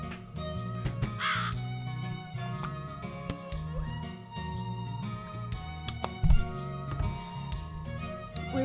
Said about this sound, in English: to a chorus of crow screeches